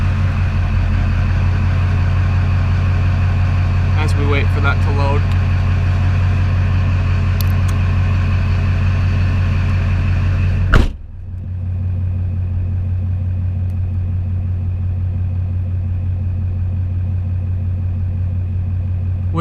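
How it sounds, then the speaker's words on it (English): A steady truck engine, an LB7 Duramax diesel, idles throughout, then the motor cuts off with a sharp click and a lower hum continues; someone talks briefly over the running engine early on. "we'll start the truck up so you can see it"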